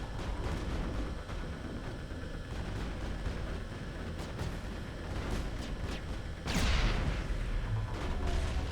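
Grenade explosions in the video game Mass Effect, a dense run of booming blasts and crackling impacts over a rumbling battle bed, with a heavier blast near the end.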